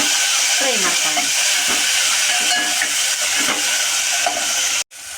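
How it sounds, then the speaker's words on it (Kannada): Chopped tomato frying in hot oil for horse gram rasam, giving a steady loud sizzle with stirring scrapes throughout, briefly cutting out near the end. "ಟೊಮೊಟೊ ಹಾಕಿಬಿಟ್ಟು ಸ್ವಲ್ಪ ಈ ಥರ ನಾವು ಫ್ರೈ ಮಾಡ್ಕೊಳ್ಳೋಣ."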